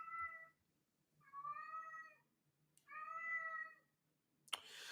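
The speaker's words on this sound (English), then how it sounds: "If you guys can hear Couch Kitties." A cat meows three times in drawn-out, tonal calls with pauses between, fairly quiet and close, followed by a brief rustling thump.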